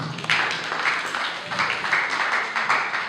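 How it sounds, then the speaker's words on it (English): Workshop attendees for teachers clap for themselves in a short burst of applause, moderately loud and uneven, lasting about three seconds with a slight swell partway through. "Clap for yourselves."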